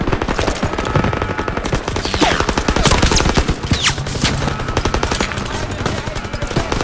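Carbine and machine gun fire in the Call of Duty WW2 video game rattles in dense, rapid, continuous bursts, loud and close throughout, with scattered heavier shots layered in the barrage.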